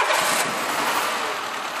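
A car engine idling roughly with a missing cylinder in a garage in Pirée, a steady uneven mechanical drone close by with no talk over it.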